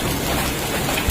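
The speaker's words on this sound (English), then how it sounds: "serious wind and hail ripping through Tampa during one of Monday's severe storms" Severe storm in Tampa, Florida, with strong wind and hail: a dense, steady roar of wind and pelting over the whole short stretch, loud and close, with one brief heavier thump near the end.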